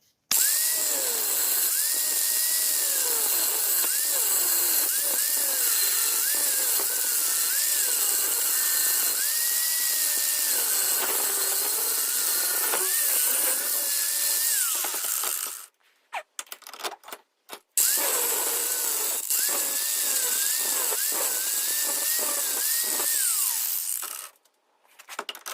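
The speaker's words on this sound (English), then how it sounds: "now I have a brand new belt on the sander. I'm just going to grind this" A belt sander grinds a steel blank for a Japanese bunka knife: a sustained loud grinding whine that rises and falls as the blade is pressed and lifted, cutting out briefly twice before resuming.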